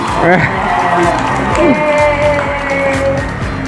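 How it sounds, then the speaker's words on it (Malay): A small group claps and cheers at home during a Raya gathering in Johor, with the applause mixed under voices and excited whoops. "Tepuk tangan pada diri sendiri."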